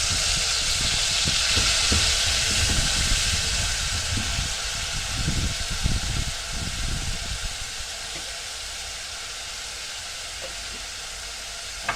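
Tomato goes into a pan of frying molokhia in a home kitchen, setting off a loud, steady sizzle and hiss with clattering stirring bursts low down, heard close and alone without talk.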